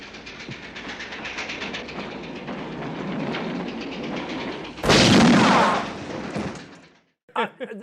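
A train in a scene from the film Once Upon a Time in the West rumbles steadily with rattling, clacking wheels, then a loud burst of noise near the end, followed by silence and a brief sharp sound.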